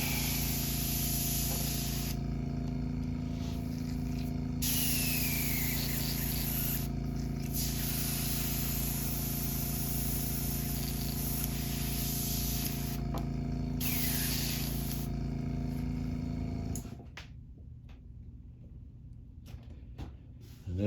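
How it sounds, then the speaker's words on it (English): Airbrush spraying paint onto a custom crankbait fishing lure, giving a steady close hiss that pulses with short gaps as the trigger is worked, then an abrupt stop near the end, quieter after. "Clamp airbrush real quick."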